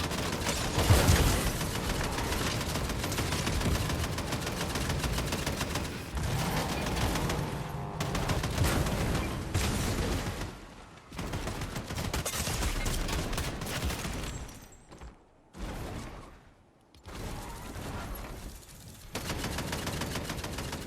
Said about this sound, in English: Why are you shooting this guy?